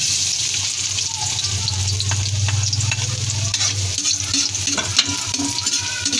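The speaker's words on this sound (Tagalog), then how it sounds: "Igigisa lang natin siya. Kasama ng sibuyas." Garlic sautéing with onion in a hot pan, loud and close, with a continuous frying hiss and the scrape of stirring throughout.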